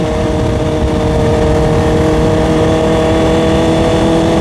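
Honda CBR650R inline-four sports bike engine, loud and close, a continuous rough roar held steady at high revs with a dense buzzing tone and no voices.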